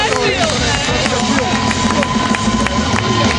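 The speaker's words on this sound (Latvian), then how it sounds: "aplausi!" A rally crowd at a Riga motorsport event applauds and cheers as a driver climbs out of his stopped car. Dense, steady clapping and crowd noise run loud throughout.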